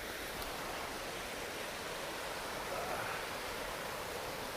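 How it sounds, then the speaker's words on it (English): Steady broadband rush of a mountain river flowing through a national forest in winter, a continuous close wash of water with no pauses and no voices. "I want to show you this river"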